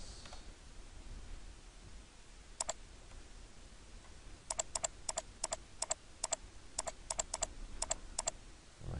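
Bracket keys tapped on a computer keyboard while working in SketchUp, a sparse single click followed by a run of quick, crisp keystrokes in irregular rhythm over quiet room tone.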